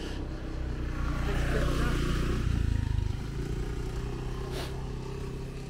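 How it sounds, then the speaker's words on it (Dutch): A scooter passes on a forest road near Elia Beach on Skiathos, Greece, its engine swelling as it approaches and fading away over the walker's steady outdoor background. "Komt toevallig weer een scooter voorbij."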